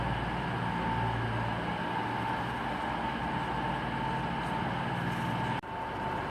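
An East Midlands train leaves Derby station on its way to Matlock, making a steady rolling drone with a humming tone that stays level until an abrupt drop near the end.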